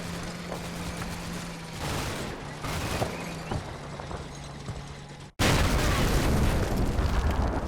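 In the Combat Mission: Battle for Normandy wargame, a Panzer IV fires and shells burst, loud booms and rumbling explosions over a steady low hum, ending in a heavy, close, sustained roar.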